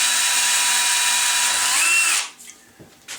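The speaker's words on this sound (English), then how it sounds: "So I'll just re-drill this slightly larger." A power drill whirs steadily at high speed for about two seconds re-drilling a cannon barrel's touch hole slightly larger, then cuts off, followed by faint handling clatter.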